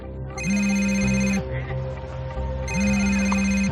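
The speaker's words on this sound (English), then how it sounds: "Noticed that my sister's phone kept ringing" A mobile phone ringtone rings twice in a row, a bright repeating electronic melody with a steady tone underneath, loud and close, with a brief gap between the rings.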